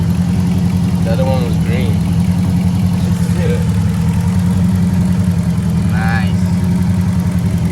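A Chrysler 300 Hemi V8 idles steadily with a newly fitted power steering pump, producing a loud, constant low drone close by while people talk over it.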